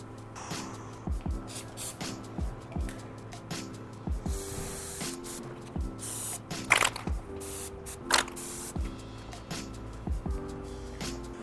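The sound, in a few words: spraying trim adhesive on armrest cover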